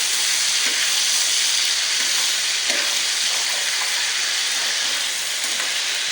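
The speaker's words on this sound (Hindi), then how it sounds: "तो अब हमने इसमें चिकन ऐड की है तेज़ आंच पे" One kilogram of chicken sizzles in a karahi over high heat, a loud, continuous close-up frying hiss with faint crackles and no voices.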